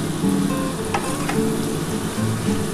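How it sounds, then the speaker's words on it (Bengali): Boiled soybean chunks fry with spices in a pan, giving a steady, close sizzle with a couple of brief crackles and stirring sounds and no talking. "একটুখানি সমস্ত মশলা দিয়ে একটুখানি ভাজা ভাজার মতো করে নিই"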